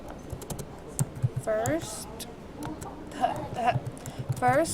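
Typing on a computer keyboard while entering a project title, with irregular bursts of clicks under a person talking.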